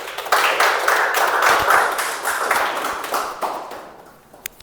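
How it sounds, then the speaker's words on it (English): A round of applause at a club meeting, a burst of clapping from a small audience that starts loud, holds steady, then fades out toward the end. "Please, round of applause."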